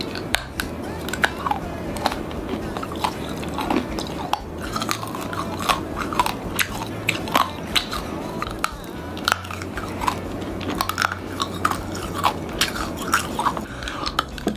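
Crunchy pill-shaped candy, the original lime-green version, is bitten and chewed close up, with repeated sharp cracks and crunches in an irregular rhythm over about fifteen seconds, no talking.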